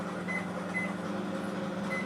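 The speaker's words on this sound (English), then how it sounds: "I'm putting a plastic spatula inside the microwave." A microwave oven runs with a steady low hum and faint intermittent high tones, alone and moderately quiet.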